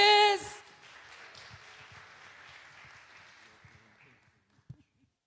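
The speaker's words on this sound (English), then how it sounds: "Keep those hands clapping for our last poet of the last round." At an evening poetry slam, an audience applauds the final poet, Chris: a short burst of voice gives way to a broad wash of clapping that slowly thins and fades, with a few stray claps at the end.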